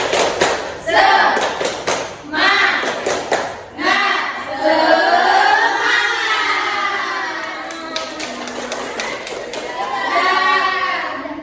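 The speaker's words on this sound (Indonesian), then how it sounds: "Tepuk semangat." Primary school class doing a rhythmic spirit clap (tepuk semangat) led by a teacher, with bursts of sharp clapping and children chanting loudly in unison over it.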